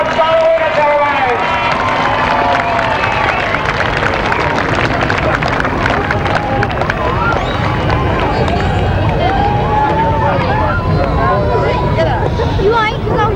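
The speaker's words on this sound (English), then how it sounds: "how about a special cheer for the top three in the solo Ace of Aces this afternoon?" Loud, sustained crowd cheering and clapping for the top three solo riders at a 1988 Ace of Aces grasstrack meeting, with shouts and whistles throughout and babble of voices underneath.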